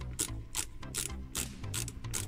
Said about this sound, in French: Et donc elle se visse dans le métal